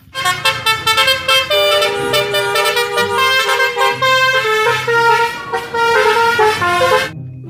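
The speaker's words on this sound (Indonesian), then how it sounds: "Mobil bus telolet teman-teman." Toy bus telolet horn playing a continuous, loud, melodic multi-tone honking tune for about seven seconds, with short pauses between phrases and no speech.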